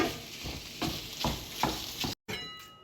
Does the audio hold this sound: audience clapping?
no